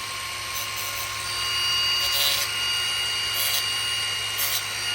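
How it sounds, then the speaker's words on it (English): A grinder working on the edge of a brake line, a steady high whine running throughout with slight swells in loudness, fairly close, alone without talk. "The grinder really working."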